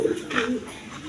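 A pair of Rajgolla pigeons coo close by in short, throaty, warbling notes, clear and moderately loud over a little background noise.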